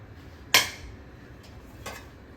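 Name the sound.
mixing chicken biryani with masala in a pot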